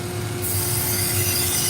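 A knife edge being refined on a 200 grit 3M Trizact belt, a steady grinding, rasping whir over a constant motor hum, close and continuous.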